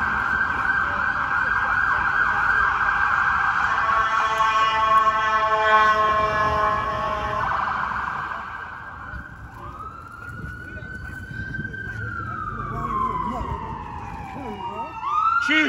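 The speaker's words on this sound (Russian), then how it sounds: "Постоянно сирены." Emergency vehicle sirens wail along a San Francisco street, a loud steady siren tone giving way to a rising and falling wail that sweeps past, with city traffic noise underneath.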